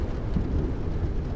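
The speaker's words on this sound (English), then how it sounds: "I really love how it's got the rain sound on the windows while you're near the windows" Steady rain patters against windows in a video game house, a dense, even wash of low rumbling noise with no pauses, close and continuous throughout.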